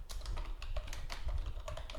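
PHP code typed on a computer keyboard, a quick run of crisp, close key clicks at a steady uneven rhythm, with no voice over them.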